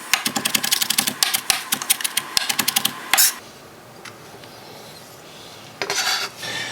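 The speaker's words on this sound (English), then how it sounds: "a fresh green onion here that I'll chop up real quick" A knife chops fresh green onion and then parsley on a cutting board for garnish, giving a quick run of sharp, evenly spaced taps, then a pause and a second brief burst of close chopping.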